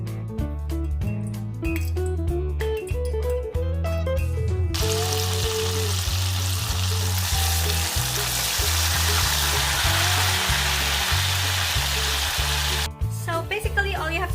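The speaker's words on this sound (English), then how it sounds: "All you have to do is deep fry your gluten and your potato into golden brown." Gluten steak and potato deep frying in hot oil, giving a loud, steady, close sizzle that runs alongside music for most of the stretch.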